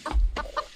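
A chicken clucks a few short, close, throaty notes in quick succession, with no one talking.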